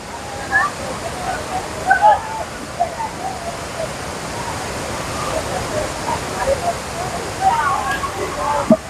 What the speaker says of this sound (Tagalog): Tinoyan Falls.